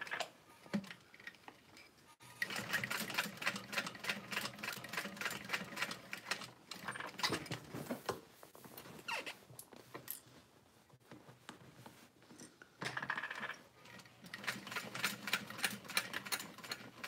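A sewing machine stitches bag handles in quiet, steady bursts of rapid ticking, stopping and starting several times with short pauses between runs.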